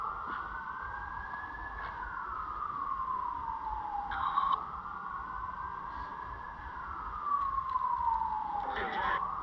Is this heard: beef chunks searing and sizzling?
no